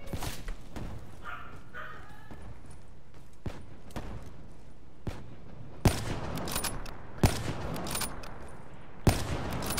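The Dragon weapon in Call of Duty Black Ops III fires in rapid bursts, a string of sharp, loud shots with irregular spacing over busy battle noise, heaviest in the second half.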